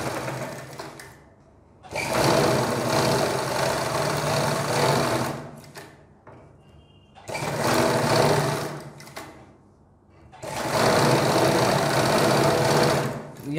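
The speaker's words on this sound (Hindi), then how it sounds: "गले पे इस तरीके से कच्ची सिलाई लगानी है" A sewing machine runs basting stitches around a kameez neckline in three long, loud, steady bursts separated by short pauses.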